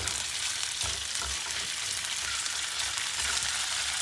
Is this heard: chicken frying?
yes